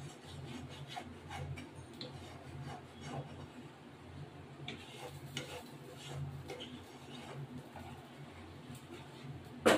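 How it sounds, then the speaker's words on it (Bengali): A spoon stirs prawn malai curry in a pan with soft, continuous rubbing and scraping strokes, quiet and close, ending in a sharper knock. "এটা দিয়ে এটা একটু নাড়া দিতে হবে"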